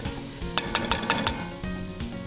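Flour cooking in a pan for a spinach gratin, stirred steadily with a sizzling, scraping rhythm and several sharp utensil scrapes against the pan, close and moderately loud with no talking.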